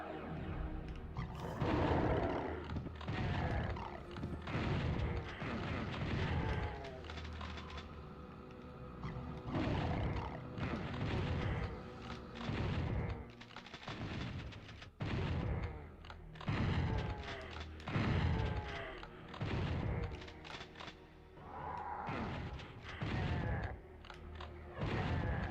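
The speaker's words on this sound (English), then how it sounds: "Shotgunners are just wrecking the place." Shotgunner enemies blast away in the PlayStation version of Doom (PsyDoom PC port), with repeated loud shotgun booms and roars mixed with game music and effects, continuous through the scene.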